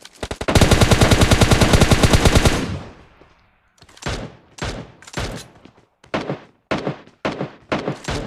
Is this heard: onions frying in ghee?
no